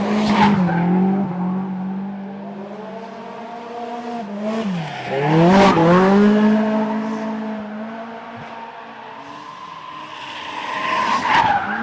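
A drift car at Gunsai touge howls through long tire squeals, the pitch sliding and wavering as the engine revs rise and fall, loud and close, with a second squealing burst near the end.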